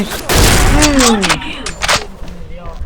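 Gunfire in the online shooter XSHOT: loud bursts of shots with weapon effects, a voice talking over them, then quieter scattered shots.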